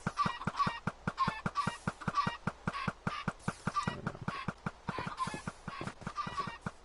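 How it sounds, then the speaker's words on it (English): Chickens in a block video game make a rapid, rhythmic run of synthetic honking, goose-like clucks, close and steady throughout with no talking. "We're gonna start abusing some of the chickens in here."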